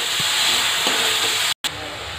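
Small onions and tomato sauté in a pan for puli kulambu, giving a steady, close, hissing sizzle with a brief cut partway through.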